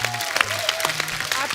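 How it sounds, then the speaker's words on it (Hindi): Studio audience applause on a comedy show, mixed with crowd noise and a sustained tonal music cue, lively and steady throughout. "बानी जी और एसके टीवी के लिए जोरदार तालियां।"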